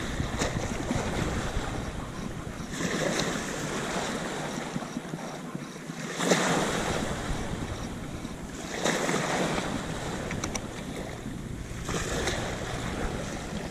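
Strong waves slapping against a small boat at sea, a loud continuous wash of water and wind with surges swelling every few seconds.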